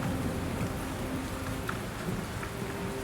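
Heavy rain pours down steadily in a dense, unbroken hiss with faint drips and splashes, continuous and loud throughout with no voices.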